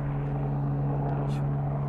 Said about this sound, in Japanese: ヘリが 離陸。